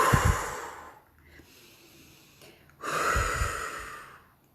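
Two long, forceful breaths are drawn in and pushed out through the nose as a breathing exercise, each a rushing airy hiss that swells and fades, with a quiet pause between them.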